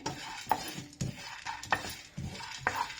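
Roasted gram dal dry roasted in a pan, stirred with a utensil in a steady rhythm of scraping and rattling strokes about every half second, close and clear with a light dry sizzle.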